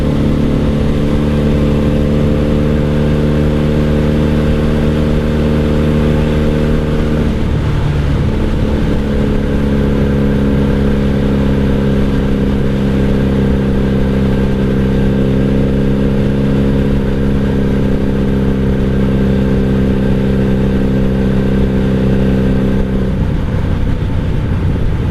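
A 1997 Honda Magna VF750C with a Vance and Hines exhaust rumbles steadily while riding, its deep engine note holding a constant drone, with a brief shift in pitch midway and another near the end.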